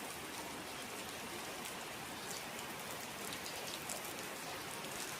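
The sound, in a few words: rain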